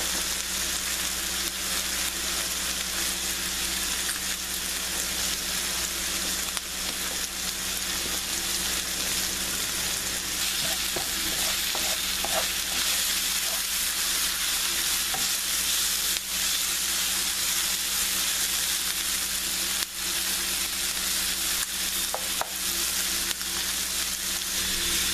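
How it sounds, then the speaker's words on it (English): Steak, onions, green peppers and mushrooms sautéing for a Philly cheesesteak, a dense, even sizzle heard up close without a break, with faint stirring ticks. "We're going to add the green peppers and saute them as well along with the mushrooms."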